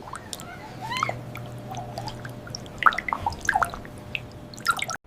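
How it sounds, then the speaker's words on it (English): Dogs drool with wet, sticky drips and squishy slurps, irregular liquid plops and smacks scattered close by over a quiet background. "And the dogs began to drool anyway."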